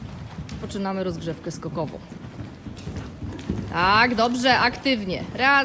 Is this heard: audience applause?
no